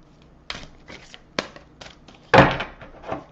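Tarot cards being shuffled by hand, a handful of close, separate riffling bursts and soft thuds with a louder flurry near the end, no talking.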